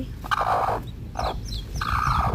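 A hen, a broody hen with newly hatched chicks, clucks up close in a few short bursts, with low background noise between calls.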